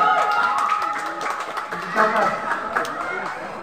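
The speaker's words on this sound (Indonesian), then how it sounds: "tepuk tangan dulu para pendukung" Supporters clap throughout a ketupat weaving contest in Indonesia, with scattered steady applause mixing with crowd chatter and a voice speaking over it.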